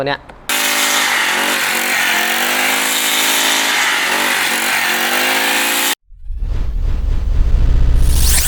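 An Umakai JM50 brush cutter's small two-stroke engine screams at high revs for several seconds, loud and close, then drops and picks up again, with someone talking over it.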